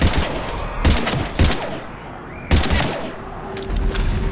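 Bursts of rapid gunfire in the Mass Effect 3 sci-fi shooter during a fight against husks, loud close volleys stopping and starting in several clusters with brief lulls between them.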